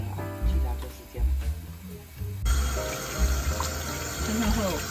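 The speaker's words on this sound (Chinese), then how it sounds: "汆烫后用冷水洗一下" Cold tap water runs over blanched beef shank in a home kitchen sink, a continuous close splashing flow with a faint voice now and then beneath it.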